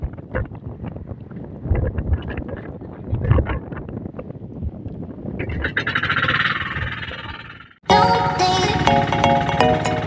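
Strong wind buffets the microphone at sea during traditional handline fishing, a gusty rumble that swells and eases, then a sharp, loud broadband roar of wind in the final seconds.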